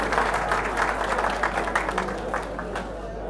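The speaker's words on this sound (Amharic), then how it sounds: "አንድ ሞቅ ያለ ጭብጨባ" An audience at a lively Ethiopian event gives a warm round of applause, a dense, even patter of many hands clapping at moderate distance that holds steady and then eases slightly toward the end, over a low constant hum.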